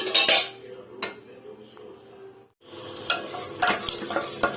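Oil heating in a pot for tempering spices crackles quietly under clinks of a utensil against metal, with a short pause before a denser run of scraping and sizzling.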